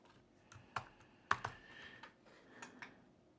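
Typing on a computer keyboard, a few scattered, sharp key clicks close by at irregular intervals, quiet overall and with no voices.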